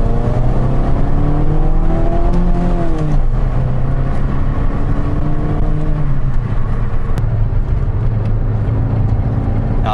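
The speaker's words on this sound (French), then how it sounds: "100 chevaux dans une voiture comme ça, c'est quand même assez exceptionnel" A Fiat Panda 100 HP runs from inside the cabin, its engine rising in pitch through the gears with clear shifts, loud and steady with no talk over it.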